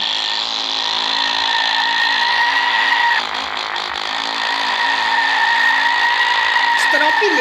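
A Honda Fan 150 motorcycle does a tire burnout with a passenger on the back: a sustained, loud, high rubber squeal runs over the engine for several seconds, briefly dipping midway.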